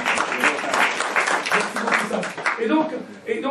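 A church congregation applauds during a sermon by a pastor, a continuous wash of clapping from many hands with voices mixed in, fairly close and even throughout.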